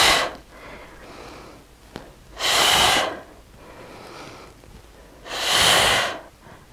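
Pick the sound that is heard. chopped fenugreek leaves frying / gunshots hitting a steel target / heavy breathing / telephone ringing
heavy breathing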